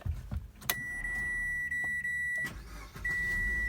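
A 2019 Mitsubishi Xpander GLS is switched on: a couple of sharp clicks, then a steady electronic dashboard chime tone over a low idling rumble inside the car, with no voices.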